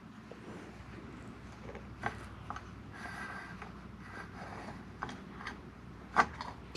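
A wrench ratchets in short, faint bursts while removing a cover from an Eclipse PRO cutting table, the clicks spaced irregularly over a steady low background hum.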